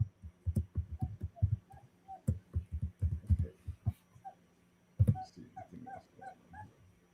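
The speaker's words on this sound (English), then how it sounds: "Hey, I hear some puppies back there, man." Puppies whimper and yip in high, thin cries, repeated in short bursts over soft thumping and shuffling nearby, pausing briefly before starting again.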